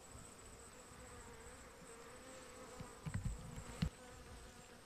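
A late-August swarm of honey bees (Apis mellifera) makes a faint, continuous buzzing hum, with a few brief, slightly louder rustles and buzzes near the end.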